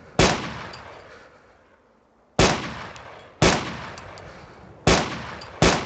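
Gunfire in the survival game DayZ: five sharp single shots spaced a second or so apart, each loud and cracking with a ringing tail that fades out before the next.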